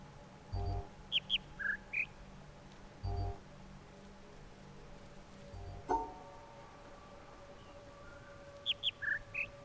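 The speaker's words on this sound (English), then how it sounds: "Now let's be here and listen to what the bird does." Bird song sound puzzle in The Witness video game: clusters of short high chirps at about 1 s, 1.8 s and 9 s, each set of calls at a different pitch. Low soft thuds and an ambient hum run under them, with no talk.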